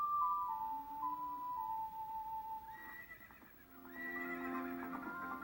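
A horse whinnies in the video game Ocarina of Time, a clear tonal neigh with falling pitch that sits alone at moderate level, followed by soft clip-clop and synthesized game tones.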